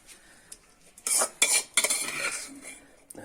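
Hot boiled rice being served onto plates with metal utensils in a home kitchen, a few close scraping clinks and rustling scoops in uneven bursts, no talking.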